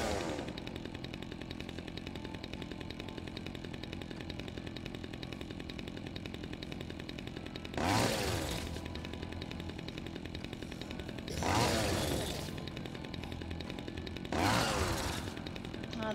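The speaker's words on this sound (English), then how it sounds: "Chainsaw's like my favorite." Chainsaw in the Dead Rising 2 zombie game, a steady idling buzz throughout with three loud revving bursts spaced a few seconds apart, no talking.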